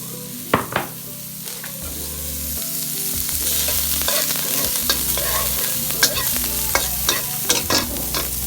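Sauce ladled into boiling oil sizzles loudly and steadily, with sharp clatters and scrapes of stirring scattered throughout; no one speaks.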